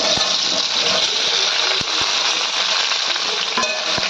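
Peeled small new potatoes frying in hot oil in a pan, a steady dense sizzle with occasional sharp crackles and stirring clicks, close by and without voices.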